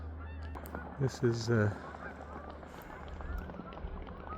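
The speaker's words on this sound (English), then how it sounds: "that's the swans taking off" Swans taking off from a pond let out a quick cluster of loud honking calls over a steady outdoor hiss, then fade into quieter background; a voice speaks briefly.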